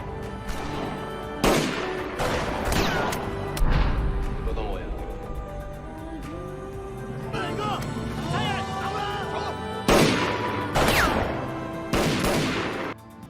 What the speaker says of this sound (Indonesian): Di situ terjadi aksi tembak-tembakan antara gangster dan polisi.